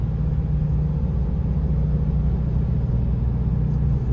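A 2023 Mercedes-Benz Sprinter van, set up as a limo, pulls onto the interstate with a steady low engine drone and road rumble that holds constant throughout, with no talking.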